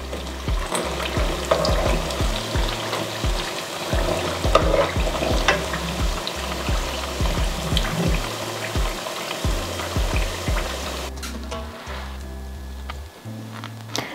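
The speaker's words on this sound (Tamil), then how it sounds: "முறுக்கு பொரிஞ்சு நல்ல பொன்னிறமான கலருக்கு வந்துட்டு இப்போ நாங்கள் இதை எடுக்கலாம்." Garlic murukku deep-frying in oil until golden, a loud continuous bubbling sizzle with repeated knocks of a utensil against the pan, the frying thinning out near the end, no talk.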